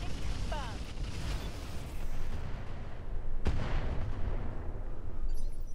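Mech weapons in the RogueTech video game fire in heavy booming volleys, a sharp blast cutting through midway over rumbling battle noise, loud and close.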